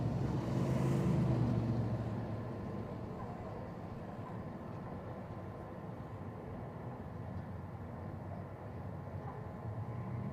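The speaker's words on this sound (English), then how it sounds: "there's a bit of stock car racing going on down here in turn number 2" Stock cars racing at Invercargill speedway, heard as a steady roar of engines out on the track. It swells over the first couple of seconds, then holds level and constant.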